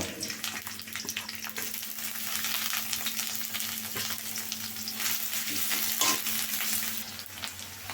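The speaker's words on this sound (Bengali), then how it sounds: "পেঁয়াজ দুই তিন পিস রসুন এবং কতগুলা কাঁচামরিচ কেটে নিয়েছি এখন আমি তেলটা গরম হয়ে গেছে এখন আমি এগুলো দিয়ে দিব" Sliced onion, garlic and green chilies frying in hot oil, a loud continuous close sizzle with stirring scrapes throughout and no talking.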